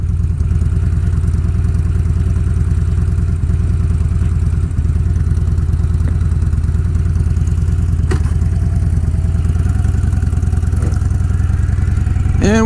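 A 2013 Harley-Davidson Fat Bob with a 103 engine idles loud and close, its steady lumpy rumble carrying on alone with a faint mechanical clatter on top.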